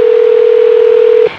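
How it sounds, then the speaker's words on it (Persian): A single steady telephone tone holds for just over a second, then cuts off, clear and alone with no voices. "تلفن کنم ببینم کدوم مارکتو دارن."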